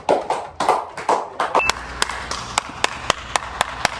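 Classroom clapping for a student: after a moment of voices, a few hands clap in a steady rhythm, about a dozen crisp, evenly spaced claps that ring out near and clear.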